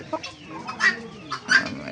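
An Indian fighter breed rooster lets out a few short, close clucks in quick succession, with quiet pauses between each call.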